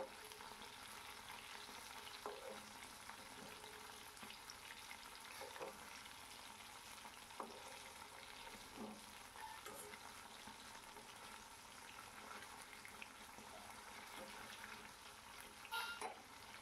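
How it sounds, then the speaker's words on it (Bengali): Bata fish sizzle in hot oil, a faint, steady crackle running throughout with occasional soft clinks and stirring taps of the spatula, and no voices. "এইভাবে মাছগুলো আমার দেখো ভাজা হয়ে গেল।"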